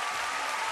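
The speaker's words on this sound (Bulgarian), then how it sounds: "аплодисменти за Любо!" A TV show audience applauds a performer, a short burst of dense, even clapping heard alone.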